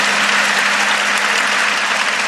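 A live audience at a comedy show bursts into loud, dense, continuous applause that stays steady throughout.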